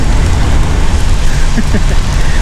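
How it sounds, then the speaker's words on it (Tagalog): Heavy, steady rain pours down during a bike ride, a dense, loud hiss of drops hitting surfaces that fills the whole stretch without letup. "So walang tigil yung ulan."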